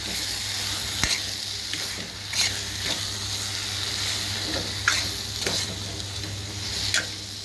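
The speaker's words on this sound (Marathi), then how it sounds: "चांगली कोलंबी परतून घ्या।" Prawns sauté in a hot pan with a constant close, loud hiss of frying, broken by occasional scrapes and taps of the spatula, and no voices.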